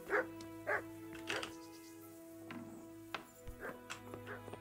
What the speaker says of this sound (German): der hat zwei Hunde